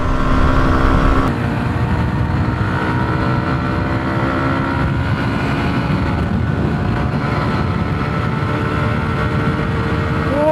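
A Hero Xtreme 125R motorcycle roars steadily at high revs during a drag race, a loud continuous engine drone with a sharp shift in pitch early on as it changes gear and keeps accelerating.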